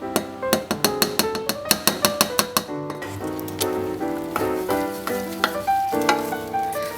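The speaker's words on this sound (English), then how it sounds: "stir to get to combine. And cook it on a medium-low heat." Flour roux for a beef lasagne sizzles and crackles in the pan over medium-low heat while being stirred, with a steady frying patter and a run of sharp clicks from the utensil, close and alone without talk.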